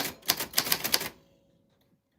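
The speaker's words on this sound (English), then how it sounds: "Typewriter ASMR" A run of crisp typewriter keystrokes in a quiet ASMR session, about eight close, fast strikes in roughly one second, then near silence before a faint click at the very end.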